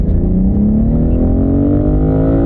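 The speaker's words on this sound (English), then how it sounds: "It's got that BMW 6-cylinder noise" A BMW six-cylinder engine pulls hard while driving, a loud, continuous close-up drone that climbs steadily in pitch as it revs, with no talking.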